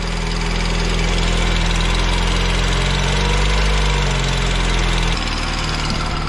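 A Mini Cooper engine runs steadily after its coil packs were replaced, a loud, even idle with a constant low drone and slight vibration, and the tone shifts a little near the end.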